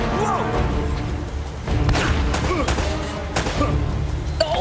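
Shotgun blasts boom out in an Uncharted video game, several heavy shots set among loud, dense gunfire and crashing action noise that continues throughout.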